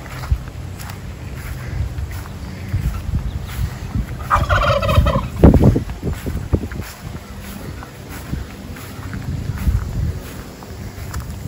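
Turkeys in a homestead pen gobble in a burst of rapid, warbling calls, fairly close, amid outdoor background noise and wind.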